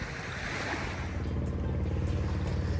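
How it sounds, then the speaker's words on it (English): Ocean waves wash in a steady, full roar with a low rumble underneath, continuous and fairly near, with no one speaking. "enjoy the sound of the waves"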